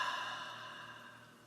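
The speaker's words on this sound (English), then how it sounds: "And deep breath in and release." A slow, deep exhale during a guided breathing exercise, soft and steady, fading gradually over a quiet background.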